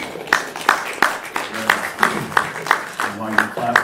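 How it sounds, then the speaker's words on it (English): Sunday church congregation claps in a steady, regular beat, with voices or singing running underneath the rhythmic claps throughout. "Put your hands together for that."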